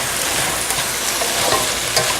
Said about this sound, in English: a good way to get your ground meat broken up is with a potato masher